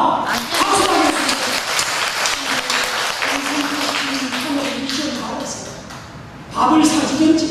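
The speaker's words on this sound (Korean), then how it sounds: "박수 하겠습니다." A church congregation at a Sunday service claps together, loud and close, under a voice speaking over the applause, with a fresh burst of clapping near the end.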